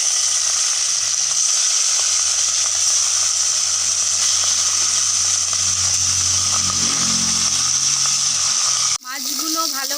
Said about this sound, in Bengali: এখানে পোনা মাছ নুন আর হলুদ মাখিয়ে রেখেছি, এটাকে ভেজে নেব।